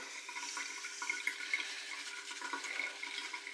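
A used makeup contour brush is swirled and rinsed in water, giving a steady soft watery swishing and trickling with small splashy bursts, close and continuous without talk.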